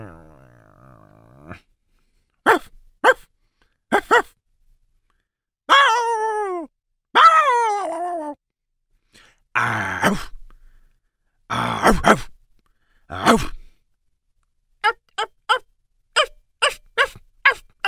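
Bark-like yelps and drawn-out whining calls for a picture-book read-along about dogs come in short separate bursts, a sharp cluster of yaps at the end, with silent gaps between them.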